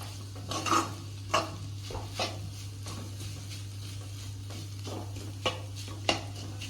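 Beetroot fry stirred in a pan, repeated scraping strokes of a spoon against metal over a soft sizzle and a steady low hum, close by.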